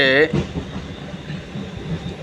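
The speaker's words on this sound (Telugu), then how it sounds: "ఈ బండే లాస్ట్ ట్రైన్ అనమాట" A passenger train runs along at night in a nearly empty carriage, with a steady low rumble and rattle of the wagon; a voice speaks briefly at the start.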